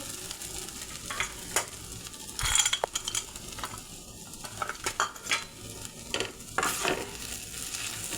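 Fried nuts and raisins stirred into cooked vermicelli for sweet zarda semai in a pan: soft sizzling under irregular metal scrapes and clinks of a spoon against the pan.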